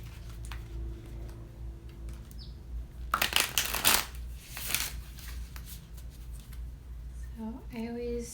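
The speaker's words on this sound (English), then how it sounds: "So I always shuffle 3 times in a very particular way." A deck of tarot cards being shuffled by hand, soft papery riffles and shuffling bursts in the middle of a quiet room, followed by a few spoken words at the end.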